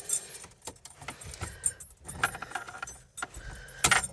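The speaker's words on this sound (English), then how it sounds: "I don't know which one of these keys are his, but we're gonna find out." A bunch of keys for an old junkyard car jangles and clinks up close in several short bursts with brief pauses between them.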